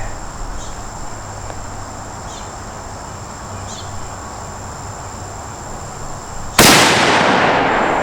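A single sharp report from a Carcano 1938 rifle cracks out near the end, loud and close, cutting through a steady outdoor background of chirping crickets.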